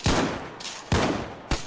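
Three loud, close gunshot bursts in an online video game base raid, spaced roughly half a second apart, each a sharp crack with a short decaying tail and no talking.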